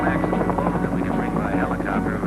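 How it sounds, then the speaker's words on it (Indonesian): A helicopter carrying cargo flies close and loud with a steady, dense rotor drone and whine that fill the whole stretch, while a voice talks faintly beneath it. "Beban paling berat yang dapat diangkut helikopter ialah 800 kg."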